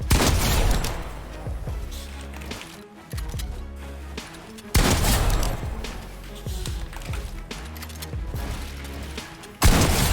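Video game gunfire crackles in rapid, loud bursts of shots, cutting off abruptly between volleys, with brief gaps of quieter game sound.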